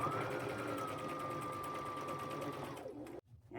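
A sewing machine stitches pockets onto a tote bag liner with a steady, close whirring run that winds down and stops near the end.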